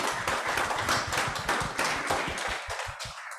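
An audience at a Rotary speaker event applauds, with dense, steady clapping that carries on throughout and thins slightly toward the end.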